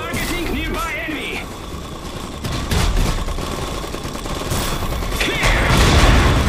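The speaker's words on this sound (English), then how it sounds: "They're shooting at us!" Enemy gunfire in the strategy game Iron Harvest crackles in steady volleys amid mechanical clanking and battle noise, with unit voices calling out over the continuous din.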